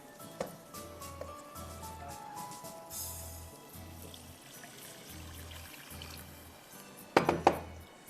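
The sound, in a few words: one cup of water poured into a pan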